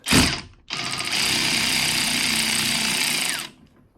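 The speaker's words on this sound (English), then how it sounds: "So I'm going to take these two 15mm bolts off of the wipers." A power tool whirs as it removes the 15mm bolts from a Ford Focus's wiper arms: a short burst, a brief pause, then a steady loud whine lasting about three seconds before it winds down.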